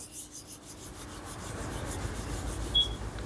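A plastic carry bag rubs Pitambari powder around a brass plate in circular strokes, giving a faint, soft, repetitive scrubbing rasp close by.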